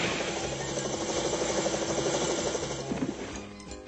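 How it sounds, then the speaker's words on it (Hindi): A cartoon helicopter helmet's rotor whirs in a steady, buzzing drone that holds nearly level throughout, then thins out near the end. "ये तो अच्छा हुआ कि मैं प्रोफेसर कीन बीन के हेलीकॉप्टर हेलमेट साथ ले आया था"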